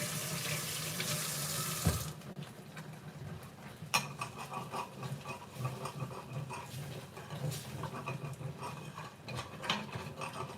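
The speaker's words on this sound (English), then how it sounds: "I'll rinse the spoon off." A kitchen tap gushes loudly for about two seconds while a spoon is rinsed, then cuts off, leaving close metallic clinks and knocks of the spoon and utensils.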